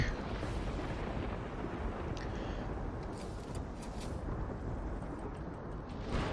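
Turret gunfire and explosions in an online team shooter game, a dense, loud, continuous roar of blasts and booming impacts with no clear gaps.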